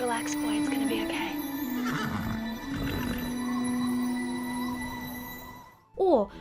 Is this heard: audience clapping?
no